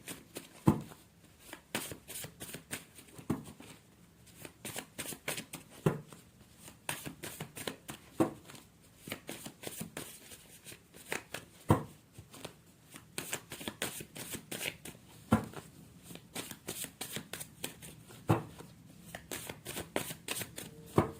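A new tarot deck is shuffled repeatedly, with crisp riffling bursts and card taps in an uneven rhythm, close and clear with no voices.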